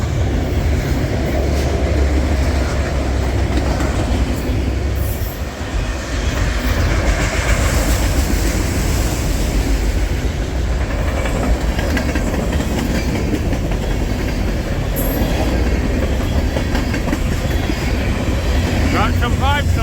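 A freight train with a DPU locomotive passes close by in an Illinois town, giving a loud, steady rumble of rolling wagons with clickety-clack and engine drone that carries through without a break.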